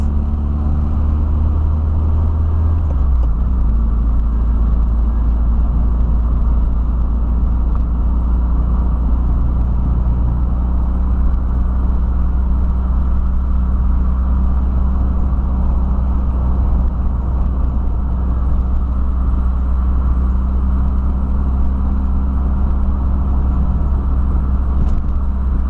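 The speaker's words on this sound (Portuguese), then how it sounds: "Só o barulho aí do Voyage aí por enquanto" A 1985 Volkswagen Voyage with an AP 1.6 engine driving on the road, its steady low engine drone and road rumble continuous and loud throughout, heard from inside the car without talk.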